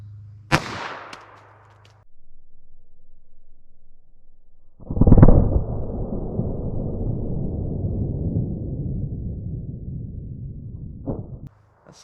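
A single loud .22 Magnum CCI Maxi-Mag TNT gunshot cracks close by into a baloney pack, followed by a long rumbling noise that fades away before a faint click.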